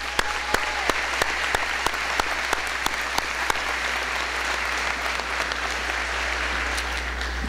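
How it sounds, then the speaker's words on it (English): Parents are applauded by the audience at a 2022 high school graduation ceremony, with steady, sustained clapping from a large crowd that fills the hall at a moderate distance, interspersed with a few sharper individual claps, and no voices over it. "Round of applause for all those parents."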